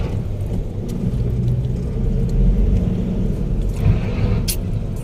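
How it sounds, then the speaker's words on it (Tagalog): Road traffic in Libis, with a continuous low rumble of cars and engines passing nearby and a few brief higher hisses of passing vehicles, with no talking. "Biglang traffic."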